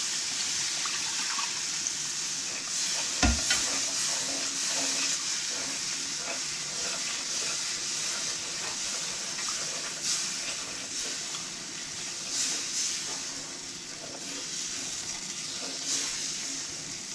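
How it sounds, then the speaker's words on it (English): Steady hissing sizzle as water is poured into a hot pan of cooked flour for smothered pork chop gravy, a continuous close steam roar with faint clinks and bubbling throughout. "the flour should be cooked enough now for me to go ahead and add my water"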